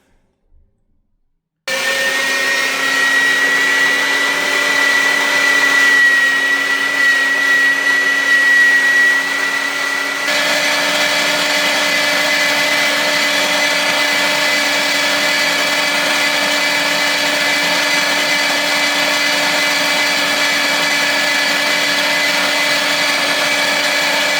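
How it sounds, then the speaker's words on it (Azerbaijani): An electric meat grinder starts up after a short silence and runs with a loud, steady motor whine and hum, continuous and unbroken to the end. "İnşallah bir dənə bu ət maşınından çəkim."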